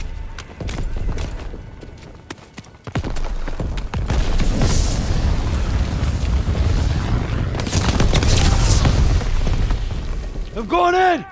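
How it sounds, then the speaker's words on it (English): Artillery booms on the beach in the World War II shooter Call of Duty: WWII, heavy thuds and a continuous battlefield roar under shouting soldiers' voices, with rapid clattering early on and a whistling sweep near the end. "Artillery's hitting the beach!"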